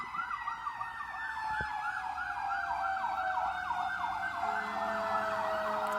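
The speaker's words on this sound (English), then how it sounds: "to this fire trucks and ambulance in the background" Fire truck and ambulance sirens wail in the background of an urban area, a steady, rising and falling electronic tone that sounds fairly distant and carries on without a break.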